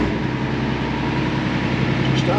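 An ex-army Unimog diesel engine idles with a loud, steady rumble and a low, even throb, heard close up with no voices.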